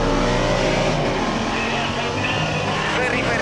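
A Mitsubishi Pajero diesel off-road race car engine roars loudly and continuously, a close dense drone under a talking voice.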